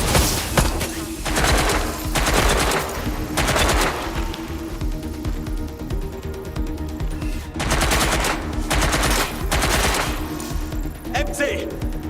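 Automatic gunfire bursts rattle out in a Watch Dogs Legion shootout, loud dense volleys repeating in several waves with brief pauses between, voices shouting over the action.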